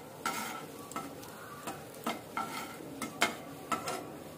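Whole garam masala spices (mace, cinnamon, cloves, bay leaves) with some dry fruits stirred into warm cooking oil, giving a soft steady sizzle broken by repeated scraping strokes of a spoon against the pan.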